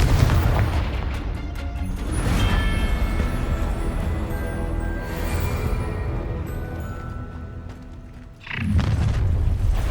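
Confringo fire spells burst in Hogwarts Legacy as loud, deep, booming explosions, rumbling and overlapping through the combat, with a final blast near the end.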